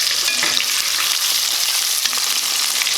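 Chicken and catfish pieces frying in hot oil, a dense, steady crackling sizzle that stays close and constant throughout with no voices.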